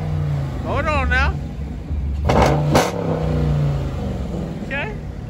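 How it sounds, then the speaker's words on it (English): Hemi V8 car revving at a car meet in Garner, a deep engine rumble that surges in two sharp blips mid-clip amid crowd noise, with people shouting and talking over it. "Oh, Lord, he revving it now."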